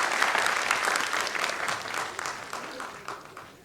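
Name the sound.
audience applause in an auditorium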